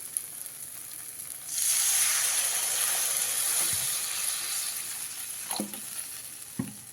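Water poured onto fried mustard paste in a pan bursts into a loud, close sizzle that holds steady, then eases off, with a few utensil knocks near the end.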